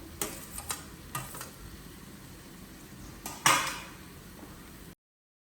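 Boiled amaranth leaves go into a pan and are stirred with a utensil, giving a few light, scattered clicks and scrapes and one louder clatter over a faint steady background hiss.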